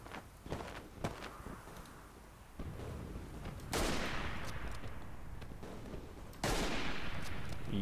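Gunfire in the World War I shooter game Verdun, scattered sharp shots and bursts with footsteps early on, followed by louder rolling blasts, moderately loud and without talking.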